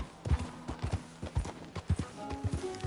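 Horse hooves clip-clopping in Red Dead Redemption 2, a brisk uneven run of hoofbeats close by, with faint tonal game sounds underneath and a brief tone near the end.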